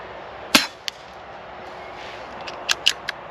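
A Vixen2 air rifle fires: one sharp crack near the start, followed by a few fainter clicks and snaps of handling or the pellet striking, over quiet outdoor background.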